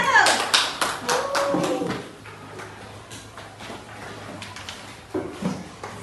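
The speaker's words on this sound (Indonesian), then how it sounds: "Oke, tepuk tangan dulu untuk kelompok 1." A classroom of students claps for a student group, with a burst of loud, close hand claps for about two seconds before it fades into quieter scattered taps and faint children's voices.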